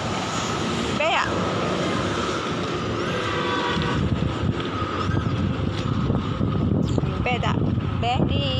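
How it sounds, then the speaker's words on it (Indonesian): Strong wind blows steadily across the microphone as a broad, rushing roar throughout, with voices talking over it and a few brief chirpy sounds. "Ni sedapnya angin kuat."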